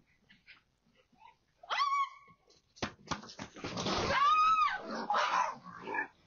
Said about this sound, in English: I love how little dogs are so aggressive.